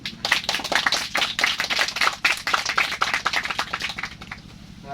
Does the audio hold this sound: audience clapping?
yes